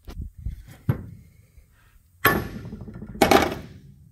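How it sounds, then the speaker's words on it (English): A hammer taps trailer brake parts into place, striking metal in a few sharp, distinct hits: light taps early on, then two heavier clanks near the end, close up with no talking. "And then we just take a hammer,"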